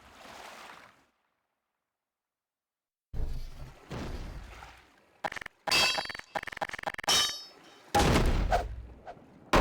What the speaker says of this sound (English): I also keep racking the guns and ejecting light usable ammunition